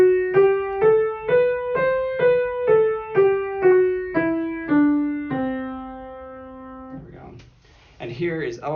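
A Lydian mode scale built on C rises note by note in a steady rhythm and comes back down, closing on a long sustained final tone. A short burst of speech follows at the end.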